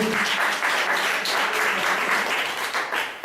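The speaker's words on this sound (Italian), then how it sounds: "facciamo anche un grande applauso a tutti gli ospiti che stanno qui." An audience at a music show applauds the guests, a dense, steady burst of clapping close by that lasts about three seconds.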